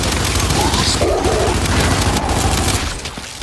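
Sustained, dense gunfire from the video game Gears 5, a loud continuous barrage of overlapping shots and blasts filling the whole stretch, easing slightly at the end.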